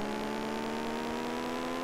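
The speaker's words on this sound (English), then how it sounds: "just listen to the engine sound" A steady, high, whining car engine tone from the Amiga racing game Days of Thunder drones on unbroken, loud and alone.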